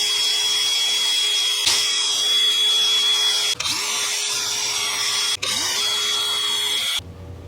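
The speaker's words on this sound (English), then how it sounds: "So I'm going to hit those with the wire wheel" A wire wheel on a power tool whines steadily against corroded bolts from a Mazda CX-9 front wheel bearing job, with the motor briefly dipping and spinning back up several times, loud and close, with no talking.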